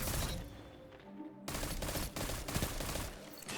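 Submachine gun fire in a Destiny Crucible match, rapid bursts of shots that break off briefly and then resume as dense, loud automatic fire.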